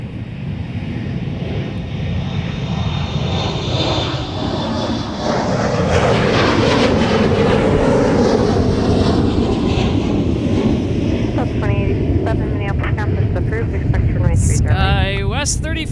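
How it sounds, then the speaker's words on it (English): At Minneapolis MSP airport, an airliner departs with a loud, building jet roar that swells and holds, while faint voices come through near the end. "We got more departures on their way out."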